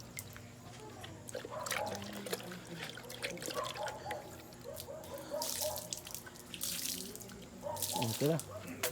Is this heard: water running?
yes